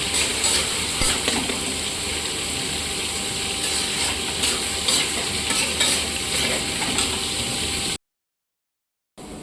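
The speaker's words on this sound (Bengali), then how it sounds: "তারপর ফাইনালি অ্যাড করে দেবো পেঁয়াজ কুচিটা। এবার এটাকে খুব সুন্দর করে লাল লাল করে ভেজে নেব।" Chopped onion fries in a pan for a mutton and potato curry, giving a continuous close sizzle with scraping, clicking stirring strokes, then a sudden cut to silence near the end.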